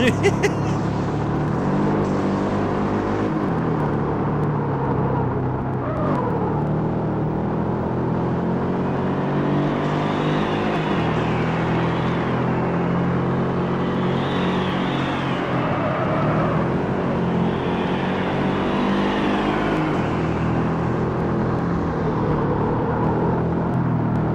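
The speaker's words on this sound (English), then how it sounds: "Listen to him back there trying to use nitrous to keep up." A rival street racer's car in Street Racing Syndicate pushes hard on nitrous from behind, its engine holding a loud sustained whine and drone that shifts in pitch over many seconds, with no talk over it.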